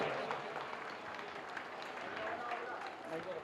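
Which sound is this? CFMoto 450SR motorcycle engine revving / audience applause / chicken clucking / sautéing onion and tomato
audience applause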